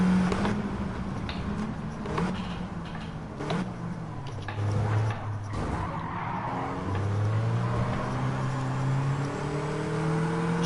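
Race car engine in a racing video game bouncing off the rev limiter, a loud buzzing whine with rapid revving surges and tire squeal, close and continuous, with no talking.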